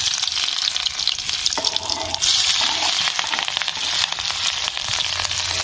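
Dried red chilli, chopped onion, chopped green chilli and garlic fry in a pan with a loud, close, hissing sizzle that swells when the ingredients go in and then holds steady.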